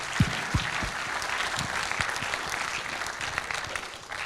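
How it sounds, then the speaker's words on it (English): A staff meeting audience claps for the presenters, a dense, steady round of applause from a large crowd lasting several seconds, with a few louder individual claps near the start. "why don't we start by giving a round of applause for all the presenters so far today"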